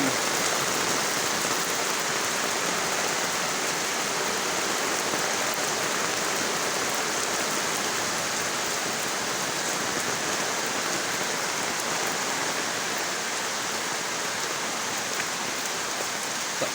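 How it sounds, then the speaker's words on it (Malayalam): Heavy rain pours steadily, a dense, constant hiss of drops beating on surfaces, close and loud throughout with no voices. "നല്ല മഴയാണ്"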